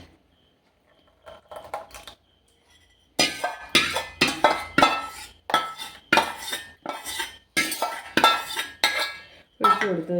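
Homemade cream ingredients get mixed in a bowl with a utensil, a brisk run of rhythmic clinking scrapes after a quiet start with a few soft taps, close and fairly loud.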